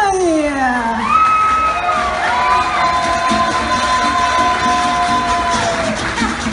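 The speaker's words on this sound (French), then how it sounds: "Je vais vous demander d'applaudir la candidate numéro 1, Mariam." An audience at a contest cheers and whoops for the first contestant. Loud, continuous crowd noise with shouting voices and some clapping throughout.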